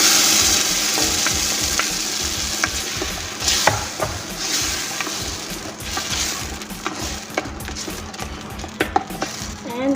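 Blended tomatoes hit a hot pan with chilies and black lemon for Kuwaiti fish marag, a loud, close, continuous sizzle broken by clinks and scrapes of a utensil against the pan, with no speech.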